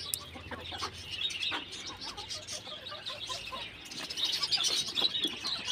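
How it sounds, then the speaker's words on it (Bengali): Chickens cluck and chirp in a flock, scattered calls overlapping at moderate distance, growing busier and a little louder toward the end. "এই যে মুরগিগুলো সব"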